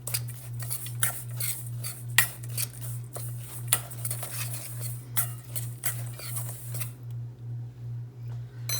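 Brown sugar and chopped pecans tossed together in a bowl for a peach blueberry crumble topping, giving repeated light scraping and clinking strokes in an irregular rhythm over a steady low hum, close and fairly quiet.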